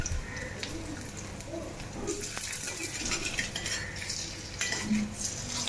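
Plates and dishes handled in a home kitchen during cooking, with steady clinks, taps and scrapes of crockery and utensils close by, continuing throughout without speech.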